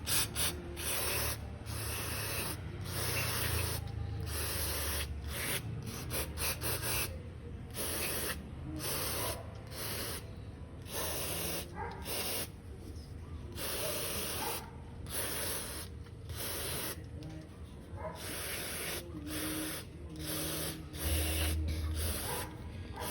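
Cleaner sprayed onto a car throttle body, a long run of close, hissing aerosol bursts repeated in quick succession with short gaps, alongside rubbing sounds and no talking.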